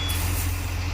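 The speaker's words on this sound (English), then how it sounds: "Here comes the tow truck with the Mustang." A tow truck hauling a Mustang, a full-crank no-start car, rumbles close by with a steady low diesel drone, a reversing beep and the hiss of air brakes, lasting about one second with no talking.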